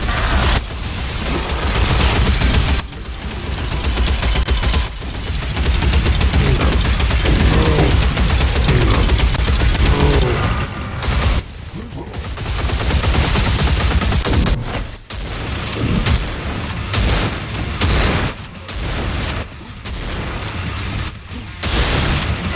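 Dense, continuous battle noise in Horde Lord: Endless, sustained gunfire and booms blending into a loud wall of sound with a few brief dips over about twenty seconds.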